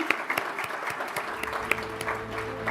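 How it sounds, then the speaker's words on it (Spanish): Audience at a business forum breaks into sustained applause, dense clapping from a sizable crowd filling the room with no one speaking over it. "Les pido un aplauso para quienes hacen posible este evento."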